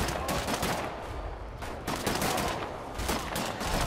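A machine gun turret in Wolfenstein: The New Order hammers out dense, continuous bursts of rapid gunfire, loud and close, with brief lulls between volleys.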